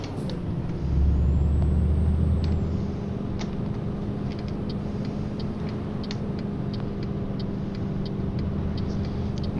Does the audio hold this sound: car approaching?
yes